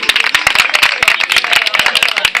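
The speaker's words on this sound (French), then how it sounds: "Je voudrais que vous applaudissiez pour le délégué général de l'UFR des Sans-Éco, M. Mida Jean-Pierre." A student gathering in Côte d'Ivoire breaks into applause for a student union leader: brisk, loud clapping from a crowd, dense and steady with sharp individual claps standing out throughout the short burst.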